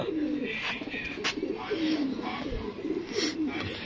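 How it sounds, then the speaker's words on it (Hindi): Pigeons coo in repeated soft, throaty phrases, close by and fairly clear, over low background noise with some rustling. "दोस्तों ये कबूतर है माशाल्लाह"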